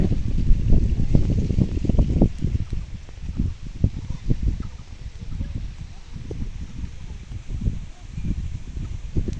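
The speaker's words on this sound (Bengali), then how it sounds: "আসলে অনেক বাতাস আসতে" Gusty wind buffets loudly and continuously beside a river, rumbling low and close with rustling, as if blowing across an outdoor microphone.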